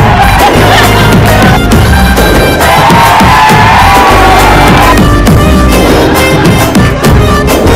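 A studio audience at a Telugu TV comedy stage show roars with sustained cheering, whoops and clapping, loud and dense for the whole stretch with no clear pauses.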